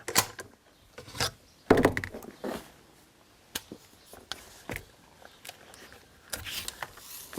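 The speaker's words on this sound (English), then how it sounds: "first thing we do is clear the weapon and make sure it's safe." A Browning A-Bolt .243 rifle's bolt action being worked to clear it, scattered metallic clacks, slides and rubbing clicks at close range, quiet between sharper handling sounds.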